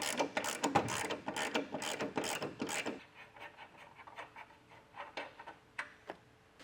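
A ratchet wrench clicks rapidly as it backs off 21mm bumper nuts on a vehicle during a base plate install, loud dense bursts at first, then sparser, quieter ratcheting clicks.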